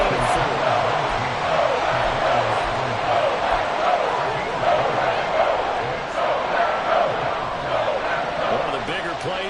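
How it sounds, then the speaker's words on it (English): A crowd roars in the stands at an American football game between the Thunderbirds and the Packers, building toward a big third down. The dense, steady noise fills the whole clip and sounds loud and continuous, with a dull bouncing thud repeating underneath. "The crowd getting into it as we come up on a big third down"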